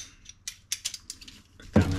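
A ratchet tightening a part on a 2007 Club Car DS gas golf cart, giving a series of about eight close, sharp mechanical clicks in a quick uneven rhythm, followed by a louder clunk at the end.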